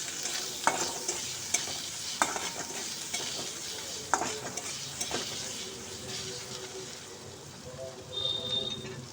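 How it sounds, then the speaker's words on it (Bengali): Onion fries with spices and ginger-garlic paste in a pan, a soft, steady sizzle with regular spoon scrapes and taps as it is stirred, quiet and close with no talking. "দিয়ে সব মশলাগুলো আমি পেঁয়াজের সঙ্গে ভালো করে কষিয়ে নেব।"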